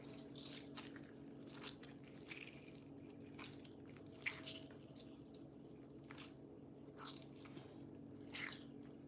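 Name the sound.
squeezing liquid out of a soaked ingredient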